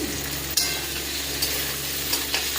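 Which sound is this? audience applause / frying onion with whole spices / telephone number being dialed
frying onion with whole spices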